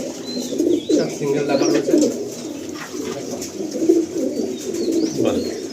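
Racing pigeons coo continuously in a loft in Kolkata, Bongaon, a dense layered murmur of soft low calls with occasional chirps, while someone talks intermittently over the flock.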